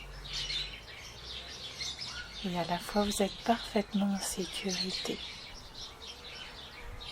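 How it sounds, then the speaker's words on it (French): Small birds chirp and tweet lightly in a calm outdoor nature setting with trees, flowers and insects, a brief burst of calls under a soft spoken voice. "des petits oiseaux."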